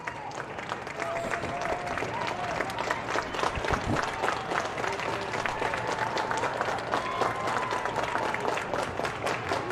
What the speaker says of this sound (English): Rhythmic clapping coming from the fans and Quincy Notre Dame side of the field